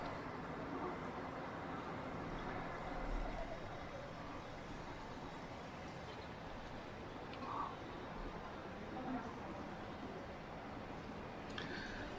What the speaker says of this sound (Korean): 차 소리도 나고 사람들 소리도 나죠?